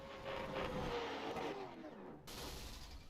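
Simulated race car engine at Stafford in an online sim racing event, droning and rising in pitch as it crosses the start-finish line, with a sharp tonal shift as the car passes.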